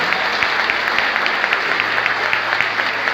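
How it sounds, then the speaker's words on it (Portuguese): A large church congregation claps steadily and loudly, a dense wash of hand claps with a few sharper beats standing out. "Você pode aplaudir a Jesus com força."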